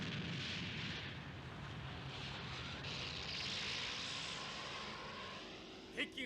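Animated planes roar past in a space battle, a steady, loud engine drone with dull booms, ending in a couple of sharp bursts near the end.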